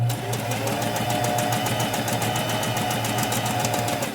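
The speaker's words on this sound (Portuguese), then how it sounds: "Baixa a sapatilha e segue a costura reta." Sewing machine running a straight seam through fabric, a steady fast mechanical chatter of needle strokes with a low motor hum, close and continuous throughout.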